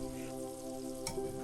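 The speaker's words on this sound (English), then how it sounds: "Then add the eggplants into the oil and fry them for about 2 to 3 minutes." Eggplant pieces frying in hot oil for a Sichuan yuxiang dish, a steady soft sizzle running throughout with a brief stirring burst near the end; no one speaks.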